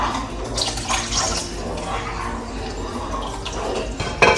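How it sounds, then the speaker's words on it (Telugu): Water is poured into a cooking pan with oil and tamarind, a fairly loud continuous splashing and gurgling rush up close, ending with a brief clatter. "వాటర్ వేసుకుంటున్నాను"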